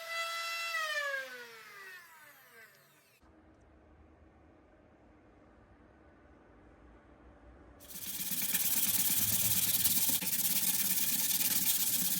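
Steady, abrasive rubbing of sandpaper against a wooden stave drum shell, loud and continuous for several seconds after an earlier quiet stretch.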